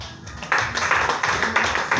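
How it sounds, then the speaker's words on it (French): A church congregation applauds, a brisk burst of clapping that starts after a moment and continues steadily and fairly close, with some voices mixed in. "Acclamez pour lui."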